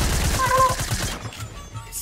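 A short burst of rapid video game gunfire, a quick volley of shots followed by a few scattered pops fading out.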